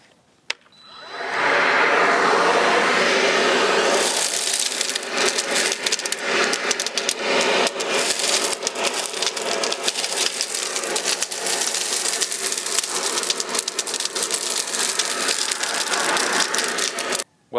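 Black & Decker cordless sweeper vacuum picking up small ornamental tree leaves outdoors: a steady, loud whirring motor drone with crackling debris rattle, starting after a quiet moment and running continuously until it cuts off abruptly.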